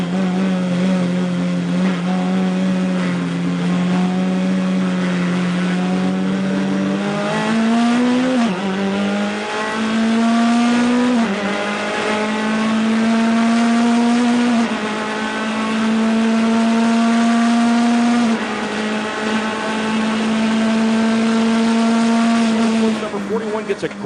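Race cars roar off the green flag at a Sebring International Raceway endurance start, engines loud and close with rising pitch sweeps as they accelerate through gears for about twenty-four seconds, steady and dense with no talk.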